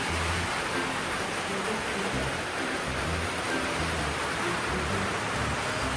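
Steady rain falls in a dense, even hiss that continues unchanged from start to finish, with no other clear sounds over it.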